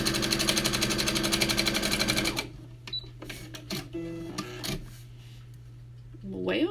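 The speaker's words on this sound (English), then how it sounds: "Get my sewing machine a little bit closer." A sewing machine stitching quilt fabric hums in a fast rhythmic run for about two seconds, then stops, leaving clicks and handling noises; a voice is heard in the clip.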